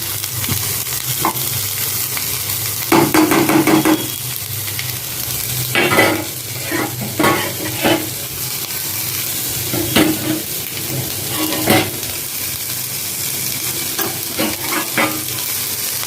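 Baby corn coated lightly in cornflour frying in a frying pan, a steady sizzle throughout with repeated scraping, clattering bursts of stirring, close and fairly loud.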